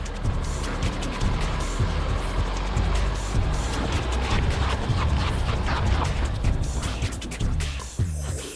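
A Jeep Meridian 4x4 SUV being driven, its steady engine drone and road and wind roar continuous and loud from inside the cabin, with a slight dip near the end.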